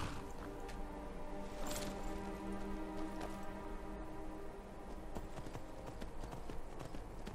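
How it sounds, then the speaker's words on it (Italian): Hooves clip-clop at a steady trot as a horse is ridden in the video game Skyrim, the quick regular beats fairly faint over soft ambient game sound. "Anzi, andiamo col cavallo."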